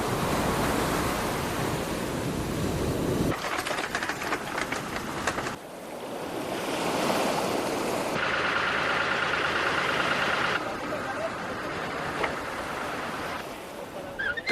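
Rough, warm sea breaking as surf along a fishing coast in El Salvador, a loud continuous roar of waves and wash with shifting intensity, wind mixed in and no voices.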